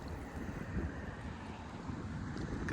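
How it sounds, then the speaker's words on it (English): Steady southwest wind blows outdoors at Great Pond in Weymouth, a broad, continuous rush with low gusty rumble against the microphone, fairly loud and unbroken throughout with no talk. "Get the southwest wind back, finally."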